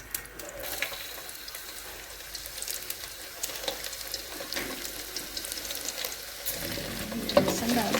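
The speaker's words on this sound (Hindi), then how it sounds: "अब इसमें घी गर्म हो जाए तो फिर लहसुन डालती हूँ। लहसुन का तड़का लगाना है।" Continuous faint sizzling and crackle of garlic frying in hot ghee with some clinks of a utensil, louder toward the end, no talking.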